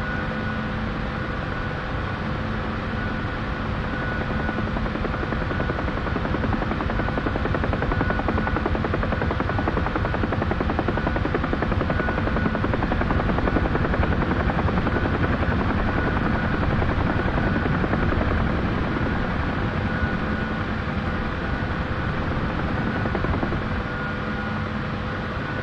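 A UH-1H helicopter in a flight simulator game, its engine whine and rotor drone running steady and loud for the whole stretch while the aircraft sits on the ground after a troop transport flight.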